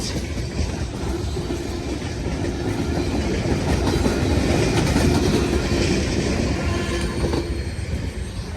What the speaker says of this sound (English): That was a really short train